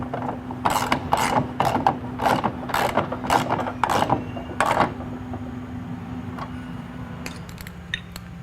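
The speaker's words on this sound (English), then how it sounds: "We will be torquing this to 25 to 28 foot-pounds." A torque wrench tightening a saddle bolt on a Powder Pro ski, sounding as a string of sharp ratcheting clicks in an uneven rhythm, then sparse faint metallic ticks, close and alone.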